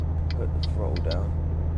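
A truck's diesel engine drones low and steady from inside the cab as the throttle goes down, a constant rumble with a voice talking over it.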